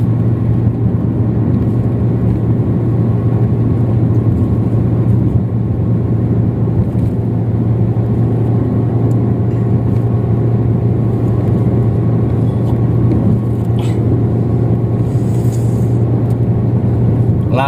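Car cruising at 80 km/h on the Krian–Cerme toll road, a loud, continuous road and engine rumble with a steady low hum that holds unbroken throughout.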